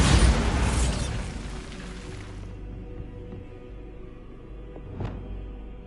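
A Bombarda explosion spell in the video game Hogwarts Legacy: a loud, broad burst that fades over about two seconds, then a quieter low rumble and a short sharp pop near the end.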